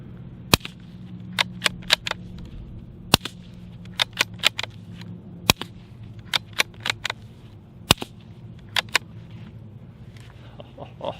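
Suppressed .22 long rifle shots through a Bowers USS 22 silencer, about twenty sharp cracks in uneven bursts, close and distinct over a low background hum.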